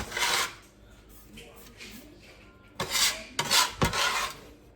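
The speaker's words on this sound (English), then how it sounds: "my bench scraper will get the rest of this parsley up that I chopped" A bench scraper rasps across a cutting board gathering chopped parsley, several quick scraping strokes, a long one first and a cluster of sharper ones later, close and dry.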